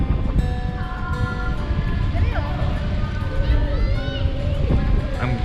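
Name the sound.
wind blowing into microphone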